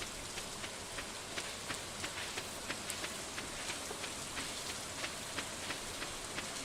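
Steady green rain pours in the farming game Stardew Valley, a constant soft hiss of rainfall dotted with regular light drip taps, evenly paced and alone with no voices.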